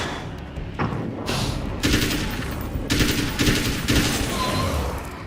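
Bursts of gunfire from a higher-powered gun in Alan Wake's American Nightmare, rapid automatic volleys repeating over a steady loud game backdrop, with no talking.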